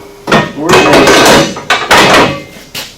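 A RacerTech rear bumper for a 900S is set onto its upper mounting bars, giving several loud close metallic clunks and knocks in quick succession with brief gaps between them.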